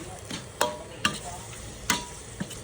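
Fatty beef being stir-fried with dill leaves in a pan, with a spatula clacking and scraping in a few sharp strokes over a low, steady background sizzle.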